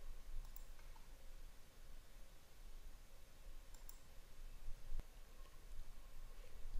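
A few sparse, faint mouse clicks ring out on a computer while a date is picked on an online calendar, each a single sharp tick over quiet room tone.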